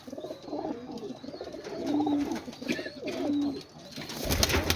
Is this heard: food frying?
no